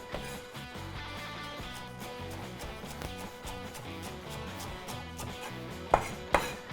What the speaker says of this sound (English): Chop it fine.